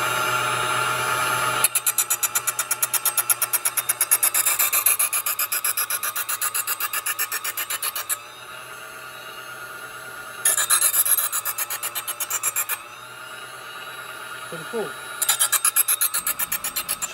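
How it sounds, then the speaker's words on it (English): An electric knife sharpener grinds a dull kitchen knife blade in a series of short rasping passes, loud and close, with a steady motor hum underneath and brief pauses between strokes. "test the blade as we sharpen it"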